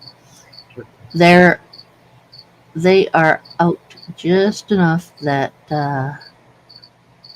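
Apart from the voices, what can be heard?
crickets chirping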